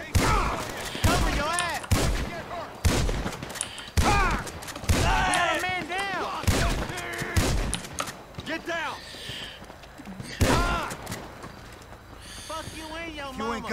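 Gunfire in Grand Theft Auto Online, a series of sharp shots scattered across the clip, some loud and close, mixed with game sounds while players talk over it.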